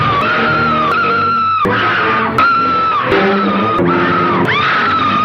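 A woman screams repeatedly in a scene from a King Kong film, with long, loud, wavering shrieks broken by short pauses and sharp clicks between them, close and alone.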